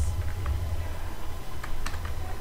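Quick bursts of computer keyboard keystrokes, a few light clicks clustered near the end, over a steady low hum, with no voices.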